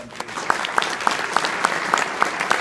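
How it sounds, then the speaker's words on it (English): Audience applause for the boys of Scout Troop 747 at an Eagle Scout ceremony, a steady wash of many hands clapping with sharper individual claps popping out, moderately close and continuous throughout. "Could we please have a round of applause for all the boys in Troop"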